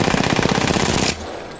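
Rapid automatic fire from an RE-45 Auto Pistol prop modeled on Apex Legends, a loud close burst of evenly spaced rattling shots that cuts off abruptly, followed by a faint mechanical tail.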